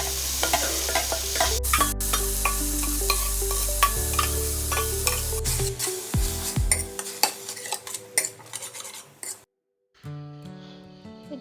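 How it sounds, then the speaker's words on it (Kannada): Green chili, ginger and garlic frying in coconut oil, a loud close sizzle with repeated spoon scrapes and metallic clinks against the pan, briefly cutting out before resuming; no talking. "ಗ್ರೀನ್ ಚಿಲ್ಲಿ ಬೊಕ್ಕ ಜಿಂಜರ್ ಗಾರ್ಲಿಕ್ ಚಾಪ್ ಮಲ್ತದೀತಿನ ಅದೊಂಚೂರು ಫ್ರೈ ಮಾಡ್ಬೋದು"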